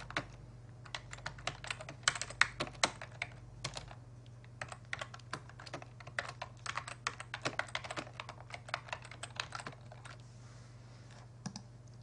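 Computer keyboard typing a profile description for a new Facebook account: steady runs of quick, close key clicks with brief pauses, over a low constant hum, no talking.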